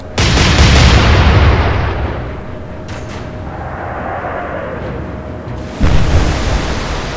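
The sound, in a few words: naval gunfire in the video game Atlantic Fleet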